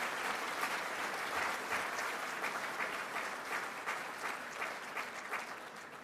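Applause for local elected officials at a leadership luncheon and presidential forum, a large crowd clapping steadily and densely throughout, loud and sustained.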